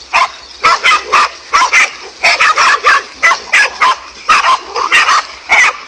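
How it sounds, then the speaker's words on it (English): A pack of five dogs barking rapidly and loudly while fighting a king cobra, a dense rhythmic volley of sharp barks and yips overlapping one another, close and unrelenting. "this King Cobra managed to get in trouble with a pack of 5 dogs"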